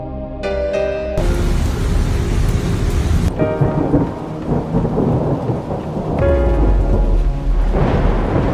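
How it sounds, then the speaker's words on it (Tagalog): A strong storm in Dubai brings loud cracking thunder over heavy, steady rain pounding surfaces, with the rumble rolling through and rain hissing throughout; no one speaks. "binayo tayo ng malakas na bagyo"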